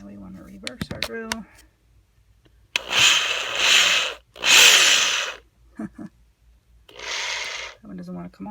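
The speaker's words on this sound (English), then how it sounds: "Now we want to reverse our drill." A handheld power drill runs in reverse, backing a bit out of a stamped soldered metal jewelry component in two close, loud bursts of whirring, followed by a shorter third burst, with a person talking in the gaps.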